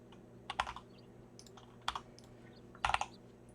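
Fingers type on a computer keyboard during a membrane-versus-mechanical typing test, quiet clustered bursts of rapid key clicks separated by short pauses, up close with no talk.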